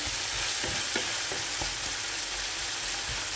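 Ground pork sisig fries steadily in a pan, a dense continuous sizzle with a few faint stirring scrapes, close and loud, no talking.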